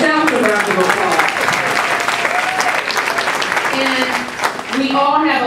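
Loud audience applause at a DC Public Schools graduation event, dense clapping filling the hall while voices and cheers ride over it throughout, with a brief dip before it swells again.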